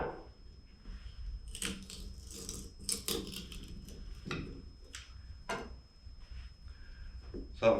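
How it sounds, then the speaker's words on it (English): Straight-grained wood split by hand with a knife for a sash window peg, giving a run of close, sharp cracks, ticks and splintering snaps at irregular intervals, with a louder crack near the end. "it's possible to split it with a knife or something like that"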